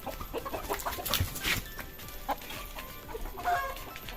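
Chickens cluck in short, scattered bursts against a busy outdoor background, several birds calling close by.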